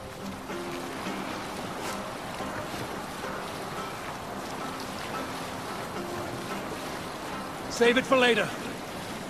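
A sailing ship at sea in Assassin's Creed Valhalla, with steady wind and rushing waves against the hull throughout. A brief spoken line comes near the end.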